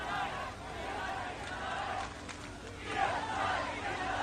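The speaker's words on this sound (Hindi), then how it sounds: "जर्मनी के ब्रेमेन सेंट्रल स्टेशन पर जुटे हैं सैकड़ों लोग" Hundreds of climate protesters crowd Bremen Central Station in Germany, a dense wash of chatter and overlapping voices that swells and fades, with occasional louder shouts rising from the crowd.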